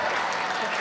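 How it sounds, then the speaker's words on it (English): An audience at a comedy show claps in a brief burst of dense, steady applause. "clap if you don't know me at all"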